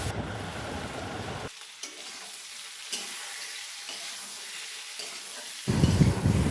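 Fried vegetables sautéed in a pan with ground ginger, garlic, chili and cumin give off a steady, loud sizzle with stirring noises, and no one speaks.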